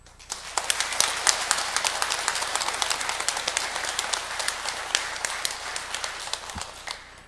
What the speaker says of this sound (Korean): 힘찬 환영의 박수로 맞이해 주시기 바라겠습니다.